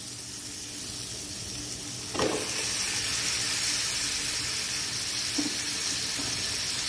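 Eggplant pieces drop into hot masala with oil, setting off a sharp burst of sizzling that settles into a steady, close frying hiss with a second brief flare later.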